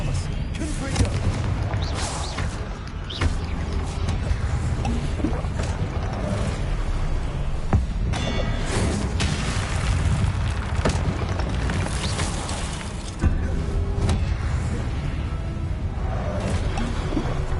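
Confringo spell blasts in Hogwarts Legacy, dense booming explosions and whooshes repeating through a long, loud battle, with a player casting and reacting under the din.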